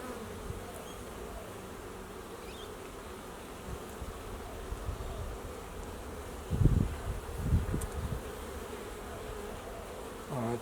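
Honey bees from a package colony buzz steadily around a flow hive, a dense continuous drone close by, with a couple of brief louder swells midway.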